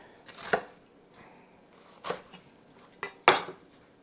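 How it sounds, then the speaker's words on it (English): A knife roughly chops broccolini into large pieces on a board, giving three distinct knocking chops spaced over a few seconds, close and fairly loud against a quiet background. "We're gonna go ahead and give this a rough chop."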